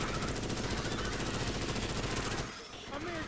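Rapid video game gunfire rattles in a continuous dense burst for over two seconds, loud and close, then cuts off briefly before scattered noise resumes.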